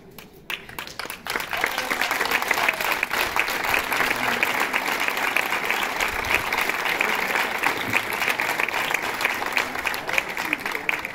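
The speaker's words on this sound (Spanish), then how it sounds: "ven aquí que te aplaudan" Applause from a concert audience, dense and sustained for about ten seconds after a brief quiet start, steady and fairly loud, with faint voices mixed in.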